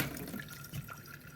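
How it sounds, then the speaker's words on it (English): Water trickles and drips out of a 3D printed elephant-shaped cutlery drainer, a faint, irregular running and dripping sound heard alone. "there goes the water come out"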